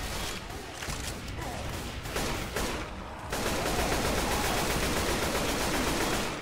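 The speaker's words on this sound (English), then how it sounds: "Keep shooting." Rapid gunfire crackles in Left 4 Dead 2, dense bursts of shots that start choppy and then merge into a continuous loud barrage, with no clear talking.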